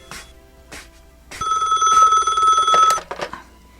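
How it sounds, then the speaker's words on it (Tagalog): A telephone rings with a bright electronic bell tone in one sustained burst of about a second and a half, loud and close, with short spoken phrases before and after in an otherwise quiet indoor setting. "Nagring ti telepono."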